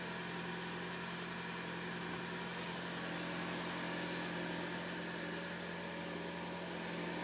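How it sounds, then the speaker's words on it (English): A Toyota Camry's petrol engine runs with a steady, even hum and broadband drone that holds constant throughout, with no talk. "And you see now the petrol engine just kicked in when the car needs more power to keep on running."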